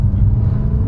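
A Mercedes 190 W201 with a 72-horsepower engine accelerates in second gear, giving a loud, close, low rumbling engine drone that holds steady through the short moment.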